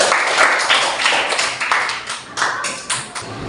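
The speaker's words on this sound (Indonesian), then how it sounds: "Tepuk tangan untuk Mas Abi dulu" A group of children clapping together, a dense burst of applause that holds steady for a few seconds at close range.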